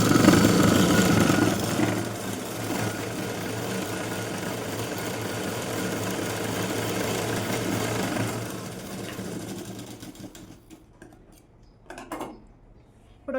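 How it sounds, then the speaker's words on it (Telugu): Sewing machine stitching a folded quarter-inch seam on a blouse, a steady close mechanical whir and rapid needle clatter that runs for several seconds, then slows and stops, leaving a few faint clicks. "ఇలా ఫోల్డ్ చేసి స్టిచ్ చేయాలి."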